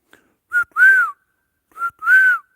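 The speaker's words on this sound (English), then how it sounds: "That's me whistling" A person whistles two short two-note phrases, each a brief chirp followed by a longer rising-and-falling tone, clear and close against silence.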